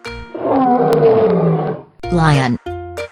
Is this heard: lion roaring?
yes